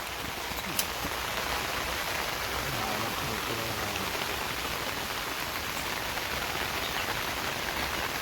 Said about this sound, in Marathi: ह्या टायमिंगला मित्रांनो सरीचा पाऊस असतो